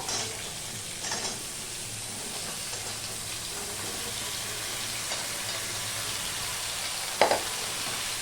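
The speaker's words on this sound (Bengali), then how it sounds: "এবার দিয়ে দিচ্ছি আমি এঁচড় সাথে আচ্ছা, দিয়ে দিলাম এই সবজিগুলো" Young jackfruit and mixed vegetables hitting hot oil in a pan, a soft continuous sizzle and hiss with a brief sharper burst near the end, no talking.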